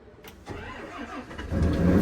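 A tractor engine cranks and catches, rising from a low starter churn into a loud, rough running rumble that steadies and grows louder at close range, with no talking.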